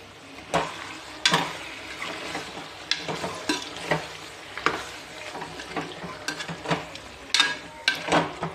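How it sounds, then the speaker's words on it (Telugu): Chili powder being stirred into a chicken curry in a pan, with a soft steady sizzle and repeated scraping, clinking strokes of the spoon against the pan in an uneven rhythm, close and alone. "కారం వేసి ఫస్ట్ తర్వాత కలుపుదాం"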